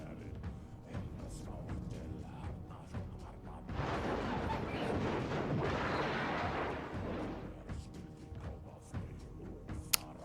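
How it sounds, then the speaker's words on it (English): Aircraft crashing in the real-time strategy game Warno during an online 1v1 match, a loud rumbling explosive roar swelling for a few seconds amid scattered distant artillery-like booms. "There goes his aircraft there. Let's watch it crash."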